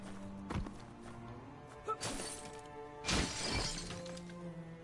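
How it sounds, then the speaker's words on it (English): A box being smashed in the video game Biomutant: two or three crisp shattering cracks of breaking wood, each with a brief splintering tail, over a steady low game ambience. "He kind of broke his box."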